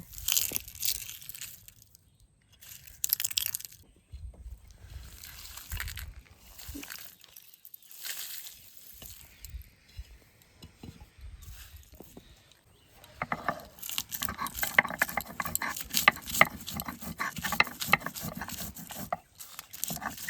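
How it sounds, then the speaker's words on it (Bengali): Rough, rhythmic scraping and crunching of a grinding stone crushing dry roasted spices, repeated strokes close by, growing busier in the second half. "ভাজা মশলাগুলো এবার সুন্দরভাবে শিলনোড়ায় বেটে নেব"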